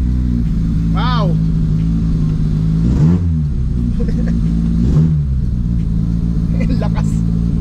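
A Honda Civic EF project car revs loudly and close by, with a steady low idle hum broken by several sharp rising and falling throttle blips spaced a couple of seconds apart.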